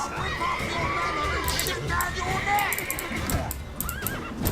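A horse in the Witcher 3 Wild Hunt video game whinnies in repeated rising neighs with clip-clop hoofbeats, heard among a busy crowd and shouting voices while a player talks.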